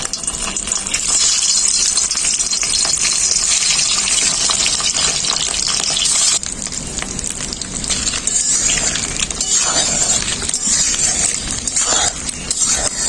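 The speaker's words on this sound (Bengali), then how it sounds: "তেল খুব ভালোভাবে গরম হয়ে গেছে। এরপর এক এক করে ভেজে নেব।" Eggs fry one at a time in well-heated oil, giving a loud, dense, continuous sizzle and crackle that barely dips midway.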